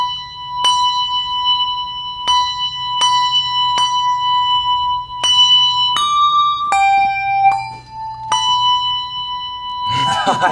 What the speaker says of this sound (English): Let's do Jingle Bells.